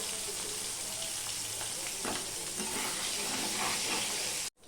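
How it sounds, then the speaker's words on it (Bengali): Fish fries two pieces at a time in oil in a kadai, a dense, loud, steady sizzle with faint spatters and stirring, ending in an abrupt cut to silence. "আমি দুটো দুটো করে ভেজে নেবো না কড়াইতে লেগে যাবে"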